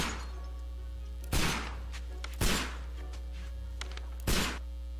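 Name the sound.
gunshots fired by Sherlock Holmes in video game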